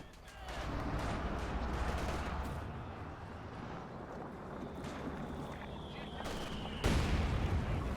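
Mortar and artillery fire in the Company of Heroes strategy game: a continuous rumble of distant blasts and gunfire, with a louder impact near the end.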